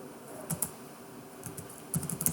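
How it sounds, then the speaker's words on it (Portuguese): Fingers typing a name on a computer keyboard, a few quick bursts of keystrokes separated by pauses, close and moderately quiet with no talk. "Vou digitar aqui meu nome mais uma vez"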